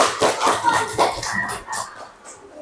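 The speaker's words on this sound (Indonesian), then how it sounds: "Tepuk tangan." A small group claps in a quick, uneven burst of applause, fairly close and steady for a couple of seconds before thinning out.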